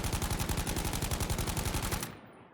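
A rapid, evenly spaced burst of automatic gunfire from a weapon in Battlefield V, held down without recoil control, loud and close for about two seconds before cutting off abruptly.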